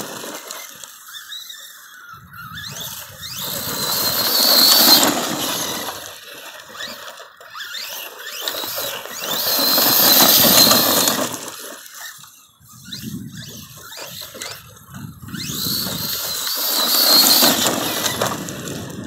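Force RC Epidemic monster truck on a 4S battery running outdoors, its electric motor whining and tires churning in three long rising-and-falling passes, moderately loud with no talking.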